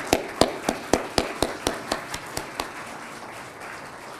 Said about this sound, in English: oh sure, we can clap for them, absolutely